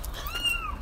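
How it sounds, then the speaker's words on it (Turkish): A cat hiding inside a car's engine compartment gives a single drawn-out, rising and falling meow, moderately loud over a low background rumble, with no talking. "Kedi sesi mi geliyor?"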